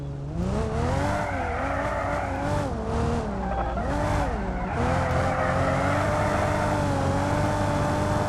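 In the BeamNG driving game, a bus drifts around a circle. Its engine wavers and strains continuously while tires squeal and skid, loud and close throughout, with no talking.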